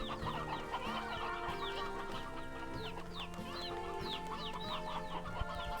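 Chickens cluck busily and continuously in the video game Slime Rancher 2, with many overlapping short calls from a flock over a steady background of game ambience and music, moderately loud.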